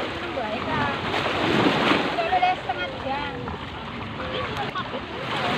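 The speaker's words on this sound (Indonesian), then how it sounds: "ombak pantai yang blurak-bluruk gitu ya teman-teman, yang datang dan pergi gitu ya" Beach waves rolling in and out, a continuous washing roar with wind across the microphone and faint voices mixed into the surf.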